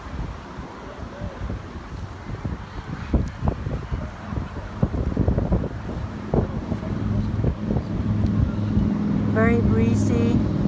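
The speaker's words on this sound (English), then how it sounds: "Very breezy." Steady breeze rushing across the microphone outdoors at a Napa Valley winery, a broad constant roar that builds slightly toward the end, with faint passing traffic and brief voices near the close.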